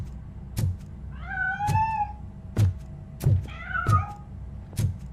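A cat in the video game RoboCop: Rogue City gives two clear drawn-out meows, interleaved with several dull thunking knocks spaced through the scene over a low background hum.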